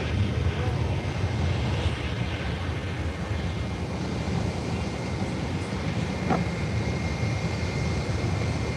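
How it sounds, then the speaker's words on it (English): A Bombardier Global 5000 business jet takes off at SJU airport with a steady, broad roaring rumble that holds strong and even throughout, dominated by deep low engine noise and a wide hiss. "Short takeoff."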